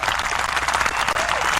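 A burst of steady crowd applause, dense clapping filling the short moment at an even, lively level.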